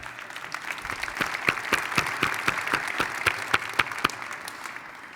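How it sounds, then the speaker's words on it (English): Audience applause at the Greater Cleveland Sports Awards: a steady wash of many hands clapping, with sharper individual claps popping out, filling the room evenly throughout with no talking. "There's going to be too many claps."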